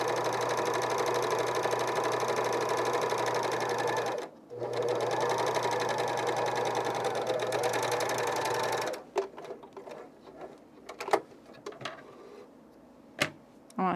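A coverstitch machine top stitches an underwear gusset seam in two steady fast whirring runs split by a brief pause, close and loud, then it stops and faint clicks and handling noises follow.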